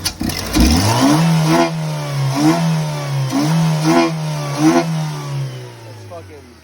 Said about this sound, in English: intake does make a lot of noise